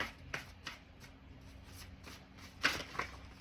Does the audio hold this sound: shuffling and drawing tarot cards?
yes